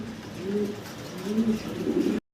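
Pigeons cooing at a pigeon farm, three low rolling coos in a row, close and clear, before the sound abruptly stops.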